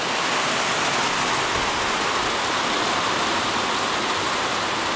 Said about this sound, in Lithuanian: Čia tas lietus.